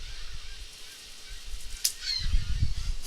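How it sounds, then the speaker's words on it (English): Seagulls call during an attack, with a sharp cry midway followed by louder, lower honking calls near the end over a background of steady outdoor noise. "It's Alfred Hitchcock's Attack of the Birds"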